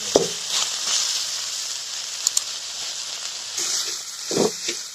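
Pigeon meat frying in a pan in a village kitchen, a steady soft sizzle and hiss with a few brief stirring clicks and scrapes, close and without talk.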